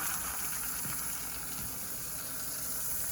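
Russet potato French fries deep frying in hot grease, a steady, dense sizzle and bubbling that holds evenly throughout without pause.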